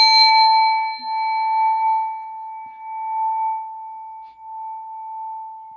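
A butter knife is struck once and rings out like a small gong, a clear sustained metallic tone with overtones that slowly fades over several seconds.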